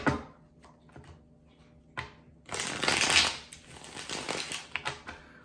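A tarot deck is handled and shuffled, with a few soft card taps and flicks followed by a long, loud riffling shuffle up close, with no talk.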